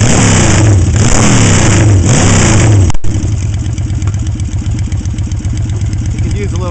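Yamaha XS650 motorcycle, rephased, with D-shaped intake ports, stock carburetors and cut-off head pipes, revs loud and close, rising and falling in hard throttle blips before settling into a throbbing, lumpy idle.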